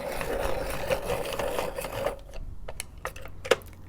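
A pencil sharpener grinds a coloured pencil for about two seconds in a steady buzzing whir, then stops, leaving a few light taps and clicks.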